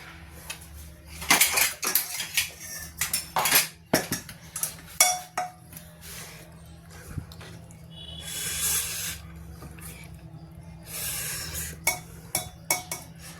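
Chole made without garlic or onion, served into a dish with metal utensils: repeated clanks, scrapes and clinks of spoon against pots and plates, sharp and close, in uneven bursts over a low kitchen hum.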